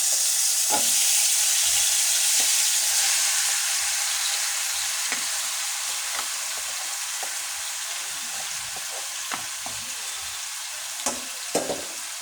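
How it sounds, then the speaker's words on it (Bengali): Meat sizzles steadily in hot oil in a pan, a dense continuous frying hiss with occasional small pops, close and fairly loud. "এখন আমি মাংসটা তেলের মধ্যে ঢেলে দেব"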